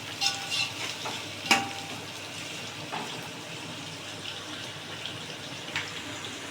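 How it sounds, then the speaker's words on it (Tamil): Chopped onions sauté in a pan while cooking tomato rice, giving a soft, continuous sizzle with occasional scraping stirs and light clinks of the spatula, close and fairly quiet. "கோல்டன் ப்ரௌன் ஆகிற வரைக்கும் வெங்காயம் வதக்கி எடுத்துக்கலாம்"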